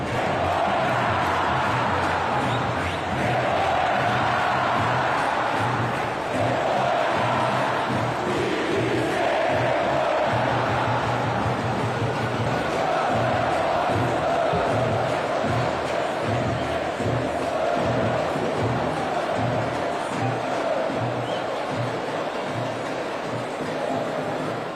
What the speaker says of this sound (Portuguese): Vamos ouvir a torcida mostrando insatisfação.